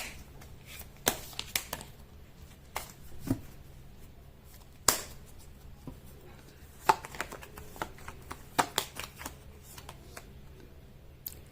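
Tarot cards being shuffled by hand in brief, irregular riffling bursts and sharp snaps over a quiet background, with a faint hum and no talking.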